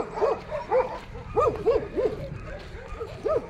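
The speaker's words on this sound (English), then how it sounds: "Oh, the dogs." Dogs acting as local guards bark and yip repeatedly in quick bursts along a forest coastal walk in Portugal, moderately close, with whimpery tones between calls.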